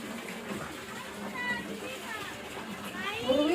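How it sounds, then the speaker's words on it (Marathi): Water runs and splashes steadily as drums are filled with drinking water for storage, with children's voices and chatter nearby over the flow. "हे बघा आई पाणी भरतीये"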